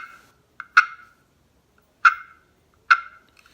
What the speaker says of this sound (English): For the cluck, all I'm going to do is put the striker right on top of the slate